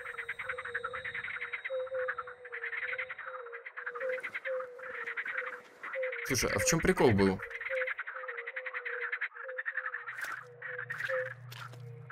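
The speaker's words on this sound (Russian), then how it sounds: "Ну, жабка." A frog croaks rhythmically in the horror video game The Cursed Forest, a repeated throaty pulse over a low ambient drone, joined by harsh crow-like caws and a sharp burst of noise midway, with someone talking over part of it.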